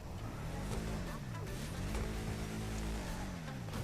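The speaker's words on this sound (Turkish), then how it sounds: "Şu muazzam motor sesini bir dinleyelim." A Dodge Charger's engine in GTA V Online revs up and down in repeated swooping waves, rising and falling pitch with a constant roar underneath.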